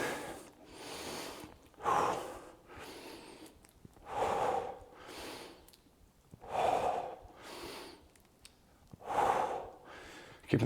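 Heavy rhythmic breathing during a core exercise workout, several strong exhales in a steady cycle about every two to three seconds, close and loud with quiet gaps between.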